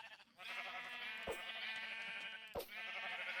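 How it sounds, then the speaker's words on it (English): Sheep in a video game bleating loudly, two long wavering bleats back to back with a sharp click between them and a crack near the end, no talking. "These sheep are freaking loud."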